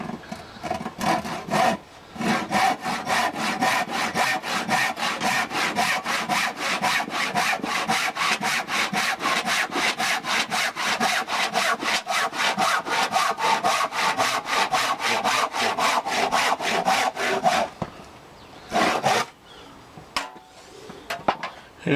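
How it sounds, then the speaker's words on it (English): A handsaw cutting through a piece of scrap wood, close and loud, with fast regular back-and-forth strokes running for about fifteen seconds, then a pause and a few final strokes. "I must be thinking you've seen thousands of people cut a piece of wood"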